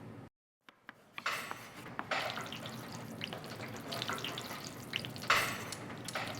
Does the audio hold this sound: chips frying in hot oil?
yes